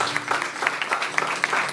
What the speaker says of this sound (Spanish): ¿Cuánto le dan un aplauso a los enviados?